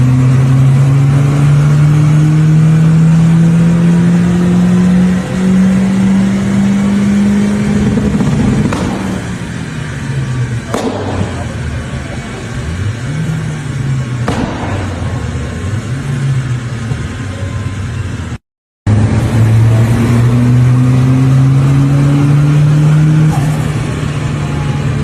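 A BMW 316 fitted with a lightened flywheel revs hard on a Shiftech dyno, a loud, close engine climbing steadily in pitch, dropping back, then surging again in repeated rising runs.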